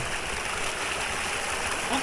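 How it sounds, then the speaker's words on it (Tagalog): Water gushing steadily from a pipe on a farm, a continuous broad rushing flow heard close by with no pauses. "Ayan yung sinasabi kong tubo. Yan yung tubig."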